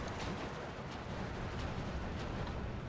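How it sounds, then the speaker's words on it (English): Heavy shells from IS-2 tanks firing high-explosive rounds in Steel Division 2, a dense rumbling barrage of dull booms with a few sharper cracks, loud and continuous throughout. "He has no AP shells left, so he's just going to go and just barrage them with HE."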